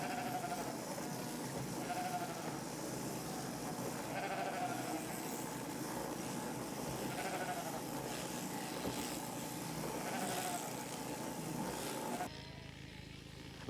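Sheep bleat in a makeshift shearing pen set on an uneven patch in the corner of a North Devon field, their calls rising over a constant busy background of farm activity.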